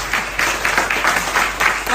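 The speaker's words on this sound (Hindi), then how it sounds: "जोरदार ताली होना चाहिए" An audience at an invitation training session claps in a dense burst of applause, with rhythmic surges of many hands, close and loud, and no speech over it.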